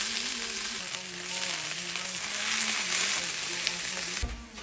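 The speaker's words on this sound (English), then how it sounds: "We don't actually want to burn the onion. We just want to cook them until literally like their maximum threshold." Onions cook down in a pan toward deep caramelization, giving a dense, steady sizzle that stays loud throughout and ends with a brief low thump.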